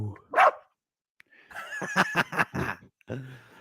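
A dog barks in a short series of sharp, close yips and woofs after a single brief burst, with quiet gaps between.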